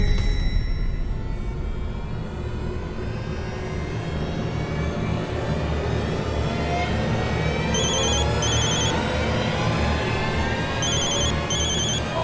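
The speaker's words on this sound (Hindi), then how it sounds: "मैं अभी इस नंबर पर फोन करती हूँ।" A telephone rings out after a number is dialed, giving two short bursts of repeated ringing tone late on, set over a loud, steady background drone with no talk.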